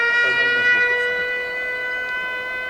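An air raid alert siren sounds a steady, tonal wail with strong harmonics, holding at a constant pitch and fairly loud, with no spoken announcement or talk during it.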